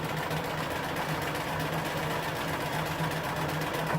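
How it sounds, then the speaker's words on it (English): A sewing machine reverse stitches on a Halloween costume, a continuous, even motor hum with a steady low tone throughout a few seconds. "now I'm going to put my machine in reverse stitch and just go backwards right here."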